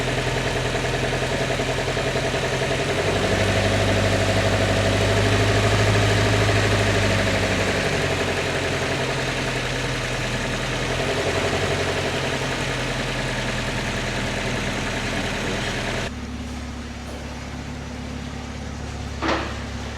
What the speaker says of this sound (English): now that the engine's been running for about 10 minutes and we're at operating temperature